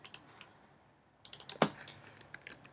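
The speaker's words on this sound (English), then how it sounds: "I'm actually going to type it" Light typing on a computer keyboard, a short pause followed by a cluster of quiet key clicks with one sharper tap, close and isolated in a quiet room.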